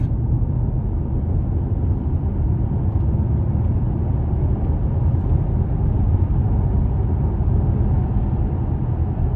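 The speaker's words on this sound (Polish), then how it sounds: "teraz jadę na trzecim biegu, tak jak widzicie, 30 na godzinę i troszkę dynamiczniej" Audi S6 C7 with a DL501 S-tronic gearbox cruising in third gear at about 30 km/h, a steady low engine and road drone heard from inside the cabin, even and unbroken throughout with no talk.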